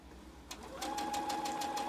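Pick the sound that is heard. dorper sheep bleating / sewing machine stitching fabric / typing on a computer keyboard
sewing machine stitching fabric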